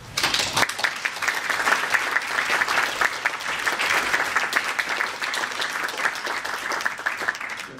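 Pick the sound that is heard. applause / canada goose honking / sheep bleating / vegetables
applause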